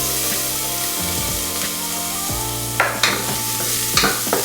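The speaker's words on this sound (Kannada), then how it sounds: "ಜೀರಿಗೆ ಸ್ವಲ್ಪ ಫ್ರೈ ಆಗಿ ಇದಕ್ಕೆ ನಾನು ಚಾಪ್ ಮಾಡಿದ ಗಾರ್ಲಿಕ್ ಹಾಕ್ಕೊಳ್ತಿದ್ದೇನೆ." Chopped garlic and cumin seeds frying in oil in a pan, a steady sizzle with a few scraping stir strokes near the end, no talk.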